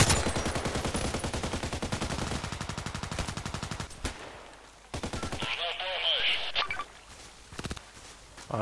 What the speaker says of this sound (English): Don't tell me he's shooting from behind.